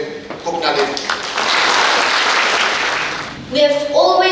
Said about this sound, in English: The round of applause goes to him, Buknalim.